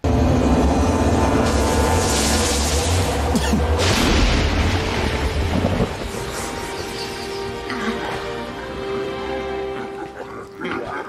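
A nuclear bomb blowing up a whole alien home planet in the sci-fi film Battlefield Earth: a loud, sustained booming roar that dominates the first half and then fades into a lower rumbling tail with layered score.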